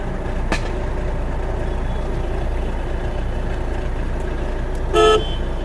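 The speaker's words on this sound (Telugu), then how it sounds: "హారన్ పర్ఫెక్ట్ ఉంది" A 2016 Hyundai i20 Magna diesel engine idles steadily, then a single short, loud honk of its horn blares near the end.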